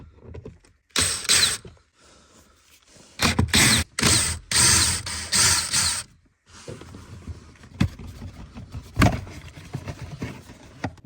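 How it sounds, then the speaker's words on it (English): Small T20 Torx screws come out from under the footwell of a Mercedes-Benz E-Class W212, giving close bursts of ratcheting and whirring driver sounds separated by short quiet gaps and light handling noises. "I think this is a T20, and we will just unscrew the 3 bolts underneath."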